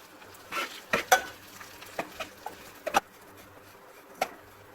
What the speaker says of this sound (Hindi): इसमें हमने 2 टेबलस्पून घी के लिए हैं, 1 कप ओट्स का लिया है। इसमें हम इसको हल्का सा भून देंगे।